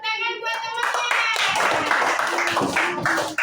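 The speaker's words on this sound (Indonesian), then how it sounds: "Tepuk tangan buat teman-teman." Children in a fifth-grade primary school classroom clap their hands together in a brisk, close burst of claps, with a teacher's voice audible at the start and children's voices mixed in.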